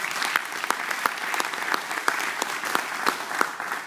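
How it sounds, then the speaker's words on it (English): Audience applause at a church service, many hands clapping in a dense, lively burst with sharp individual claps standing out, close and loud throughout with no talking. "let's give them a big hand clap"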